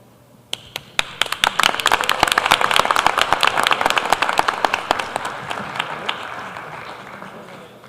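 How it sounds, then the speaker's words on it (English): An audience at a Pleasantville Public Schools Board of Education meeting claps steadily for several seconds, building quickly and then slowly tapering off, with dense hand claps filling the room. "let's give them a round of applause to our wonderful staff"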